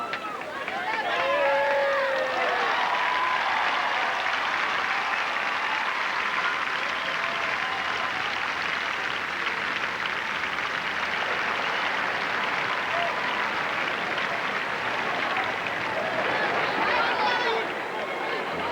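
A large New York tennis crowd at the 1994 US Open, Agassi versus Chang, screams and roars in a sustained wall of noise, swelling near the start and again at the end.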